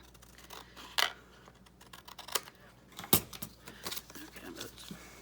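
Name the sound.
scissors trimming fabric tag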